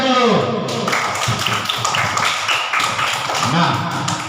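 A class of children claps together in a classroom lesson, with brisk bursts of hand claps and taps at close range, mixed with lively young voices talking and calling out over the rhythm.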